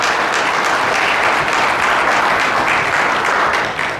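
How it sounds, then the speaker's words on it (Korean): A church congregation at a Sunday service gives loud, sustained applause, a thick, steady wash of clapping from many people that holds for about four seconds and tapers slightly at the end. "다시 한번 하나님께 영광의 박수 올려드리도록"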